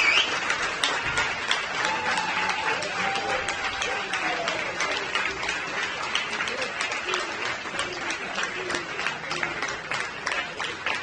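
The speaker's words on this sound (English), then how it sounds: "So a huge applause please for Vika Schlitz, the new champion" A crowd applauds a new karting champion at a Grand Final prize ceremony, steady dense clapping across the whole stretch with a few faint chirpy cheers mixed in, nobody speaking over it.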